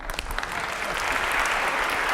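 A large audience breaks into sustained applause at a political talk, a dense wash of many hands clapping at once that holds steady and loud throughout, with no voices rising above it.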